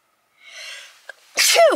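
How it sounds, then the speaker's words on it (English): A single loud, close sneeze preceded by a sharp intake of breath. "I'm gonna sneeze."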